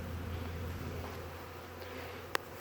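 Honeybees from a package being installed in cold weather buzz in a steady low drone close by, joined by a constant hum and a single sharp click near the end.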